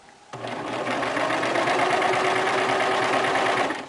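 A sewing machine stitches hammock fabric, starting abruptly after a brief quiet moment and then running as a steady, close, continuous mechanical whir.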